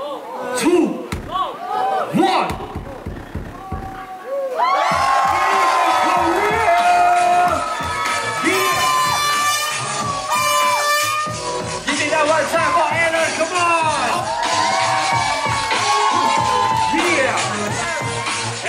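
A crowd at a hip hop dance battle final cheers and whoops after the champion is announced. Sharp slams open it, then loud, sustained shouting and cheering with music continues throughout.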